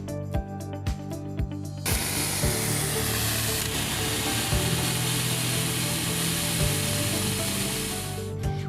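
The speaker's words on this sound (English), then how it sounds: "We added red dye to our sprayer bottle to demonstrate misting chemicals using our sprayer." A duct-cleaning chemical sprayer mists through a 2-foot wand with a loud, steady broadband hiss that starts abruptly after some mechanical clicks and continues under a low motor hum.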